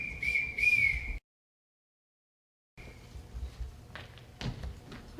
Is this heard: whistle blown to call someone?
yes